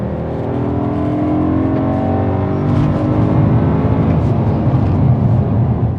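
A 2007 BMW M3 with a V8 and manual gearbox revs hard in third gear, a loud continuous engine note rising in pitch as it pulls, with no voices.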